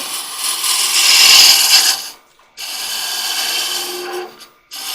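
A spindle roughing gouge shaping the outside of a wooden goblet cup on a lathe, close rasping cuts in three bursts split by short silent pauses.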